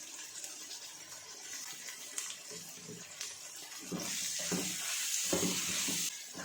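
Tomatoes, yogurt and spices with mutton keema frying in a pot, a soft hissing sizzle that swells louder midway, broken by gentle stirring scrapes, no talking.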